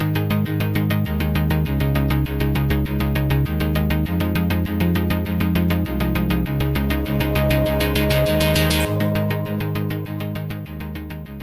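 Bright chorus pluck synth, with short rhythmic plucked chords over a steady bass line, loud and continuous, with no voice.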